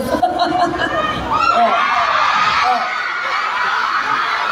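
A cockfight crowd in Batuan shouts and yells in a dense, loud mass of overlapping voices, with the clamor swelling and staying constant for the whole stretch.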